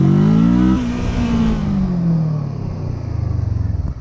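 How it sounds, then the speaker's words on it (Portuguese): A Kawasaki Versys 650 motorcycle accelerates in first gear, its engine loud and close, revving high, then easing off into a lower throbbing idle-like pulse. "Ó, primeirinha, vou dar mão."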